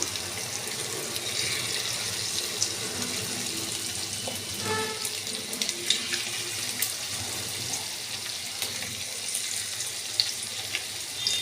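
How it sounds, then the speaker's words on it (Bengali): Chicken pakora frying in oil, a steady close crackling sizzle with small pops throughout, no talking. "এগুলো আমি এখন ভেজে নিচ্ছি।"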